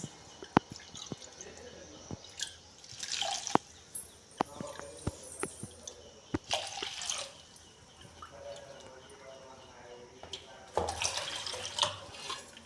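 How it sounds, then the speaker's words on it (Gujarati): Water is poured into a bowl of jaggery for Gujarati lapsi, in splashy bursts with pauses between them. "આ જ ચાર વાટકી પાણી નાખવાનું છે"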